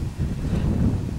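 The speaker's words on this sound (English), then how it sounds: "because it is very windy out" Strong wind buffets the microphone outdoors at a shooting range, a steady low roaring rumble with no other sounds standing out.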